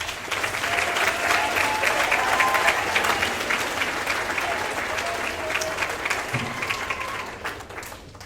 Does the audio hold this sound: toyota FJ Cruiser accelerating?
no